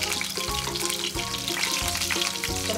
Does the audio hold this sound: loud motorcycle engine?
no